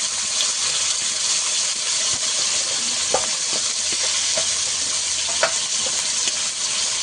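Bhola fish frying in a pan as whole spices and panch phoron go in, a loud continuous sizzle and hiss with scattered clicks and stirring taps, no voices.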